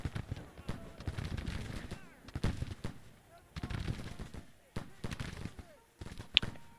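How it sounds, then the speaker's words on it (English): Troops firing volleys in the Civil War strategy game Grand Tactician: a steady crackle of scattered, distant-sounding musket shots and pops, irregular and overlapping, with a voice talking over them. "Are you guys shooting at them?"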